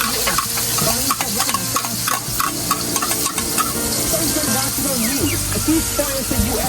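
Food fries and is stirred in a hot pan full of sauce, loud bubbling sizzle with utensil scrapes close up, and a voice talks faintly underneath.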